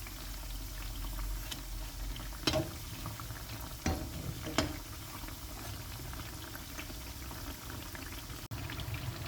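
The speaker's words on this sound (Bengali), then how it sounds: "পিঠাগুলো মিডিয়াম আঁচে ভেজে নেবেন।" Pitha cakes for shira pitha fry in hot oil over medium heat, giving a steady, dense bubbling hiss throughout with a few soft clicks and taps from the pan.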